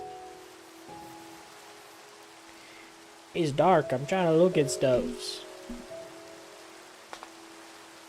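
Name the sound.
rain falling in the video game Minecraft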